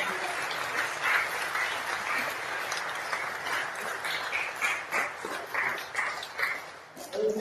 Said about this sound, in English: And we give a huge round of applause